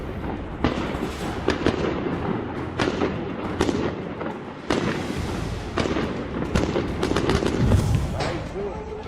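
Repeated loud bursts and crackling booms of fireworks and explosions going off in quick succession outside Al-Aqsa Mosque in Jerusalem amid violence, with voices and commotion mixed underneath.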